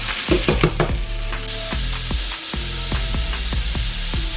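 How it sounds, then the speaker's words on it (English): Onions and mushrooms frying in a pan alongside smoked braised beef short ribs, a close sizzle with clattering metal scrapes and knocks from stirring, fairly loud and without voices. "Let's pull these off and add the onions and mushrooms."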